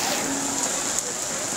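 Heavy rain pours down steadily in Ajmer, a loud, even hiss of falling water filling the scene without pause.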